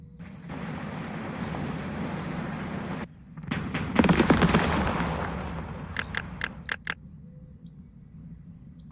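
Rapid gunfire bursts from a turret-mounted machine gun in the Second Front wargame, with a dense rattling volley through the middle and several sharp separate shots near the end, loud over a steady background rumble.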